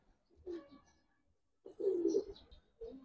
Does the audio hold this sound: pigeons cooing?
yes